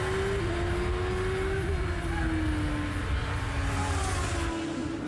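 Champ Car race cars at the 2004 Vancouver Grand Prix, a continuous loud engine scream with a high tonal whine that shifts pitch as cars race past, a crowd-like wash underneath.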